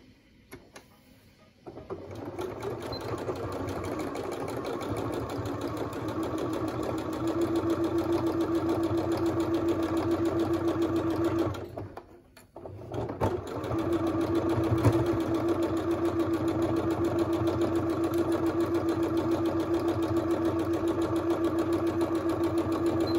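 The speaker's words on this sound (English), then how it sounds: "I'm going to sew that a quarter of an inch all the way down" A sewing machine stitches a fabric seam at a quarter inch for a baby toy panel, running steadily and close with a constant whirring hum, briefly stopping near the middle before resuming.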